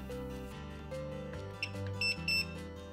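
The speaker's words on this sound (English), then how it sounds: "If a beep is heard, I know the switch is working" A continuity tester checks Acorn Electron keyboard switches, giving a few short, high beeps in quick succession over a steady musical background.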